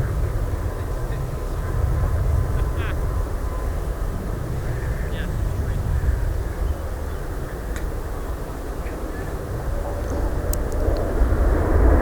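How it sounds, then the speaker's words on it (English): A jet airliner at Manchester Airport uses reverse thrust, producing a broad, sustained roar that builds again toward the end, with faint background voices. "having a bit of a reverse thrust there"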